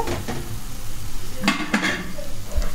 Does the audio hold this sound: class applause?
no